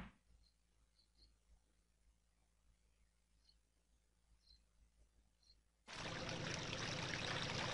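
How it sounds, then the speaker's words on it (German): River water in The Legend of Zelda: Majora's Mask, restored in Ikana Canyon with a turning waterwheel, bursts in as a loud, steady rushing flow after a few quiet seconds of faint ticks. "Und damit fließt der Fluss wieder."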